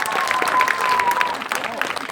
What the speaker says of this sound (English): can we please give her a big round of applause one more time?